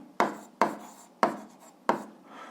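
Pen or chalk strokes during an eighth-grade algebra lesson, four distinct scratchy writing marks in an even rhythm, close and fairly clear with no talking.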